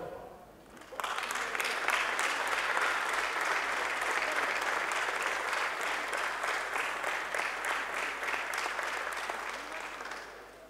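Audience applause for a local police officer being decorated for over twenty years of service at a ceremony in Mogán, starting abruptly and holding steady and dense for about ten seconds before easing slightly.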